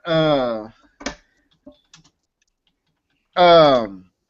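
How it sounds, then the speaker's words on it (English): A few sparse, crisp clicks from a computer keyboard fall in a short pause between bursts of close male speech. "typing John right now."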